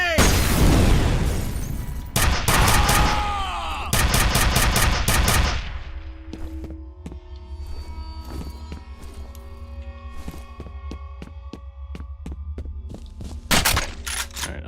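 In F.E.A.R., gunfire and a heavy grenade blast come loud and close, rapid shots with a booming burst early on, then quieter crackling combat and a few more loud shots near the end, with a voice speaking briefly.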